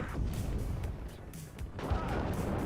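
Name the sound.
artillery fire in the video game WARNO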